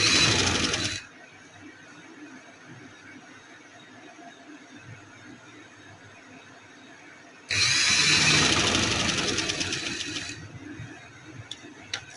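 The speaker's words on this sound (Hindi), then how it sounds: "इसके किनारे पे हम सिलाई लगाएंगे।" Two bursts of a sewing machine stitching along the edge of a flared summer frock, about a second at the start and a louder run of roughly three seconds later, with a quiet hum between.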